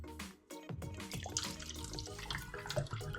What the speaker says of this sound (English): this time I'm just gonna pour the waters in the cups